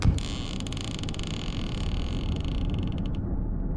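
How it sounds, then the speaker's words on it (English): A wooden floor plank gives a single sustained creak underfoot, a close, grinding groan lasting a few seconds before it stops abruptly, heard in a horror visual novel game. "The plank beneath me creaked."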